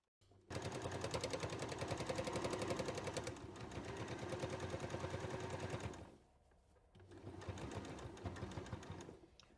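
A sewing machine runs in fast, steady bursts while stitching the seams of a fabric bowl, with a brief pause before stitching resumes; close and loud, with no talking.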